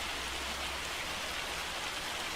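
Rain falls in the farming video game Farming Simulator 25, a soft, even hiss of drops on surfaces that holds steady from start to end with nothing else over it.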